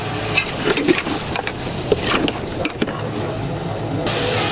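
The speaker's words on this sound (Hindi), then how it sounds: "ये 1 किलो चिकन गोश्त है, ये इसमें शामिल कर देंगे और इसको अच्छी तरीके से मिक्स करेंगे।" A kilogram of raw chicken meat is stirred into a pot for white chicken pulao, giving scraping, sloshing stir sounds over a steady sizzle, close and fairly loud with no talking.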